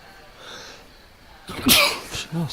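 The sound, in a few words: sneeze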